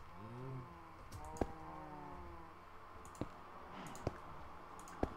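Mouse clicks during a game: four sharp, isolated clicks spaced over a few seconds, close but quiet, above a low hum with faint tonal game sounds at the start.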